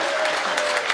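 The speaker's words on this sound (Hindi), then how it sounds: "बजाओ ताली, हाथ उठाकर एक बार जोरदार" Loud, dense clapping from a live audience at a Haryanvi comedy poetry recital, steady across the whole moment with a faint murmur of voices underneath.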